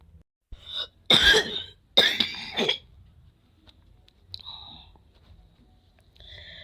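Two loud, close coughs in quick succession, followed by quieter throat noises and faint high tones against near silence.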